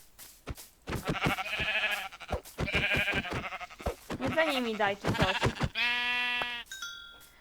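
Sheep bleating in the Minecraft video game, a few tonal, wavering bleats, close and fairly loud, while someone talks over them with a brief electronic chime at the end.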